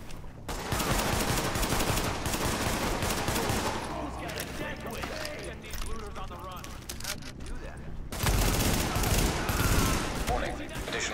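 Dense rapid gunfire from The Division video game plays near and loud throughout. The automatic bursts and shots are continuous and layered with game sound effects.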